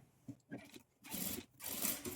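A sewing machine top-stitches the edge of a boat neck, giving two short, quiet bursts of stitching after a few faint handling taps.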